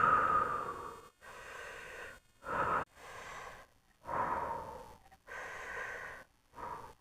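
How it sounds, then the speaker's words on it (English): Deep breathing by a boy, a series of slow, close inhales and exhales separated by short silences, about six breaths in all, with no talking. "all you need to do is take some deep breaths"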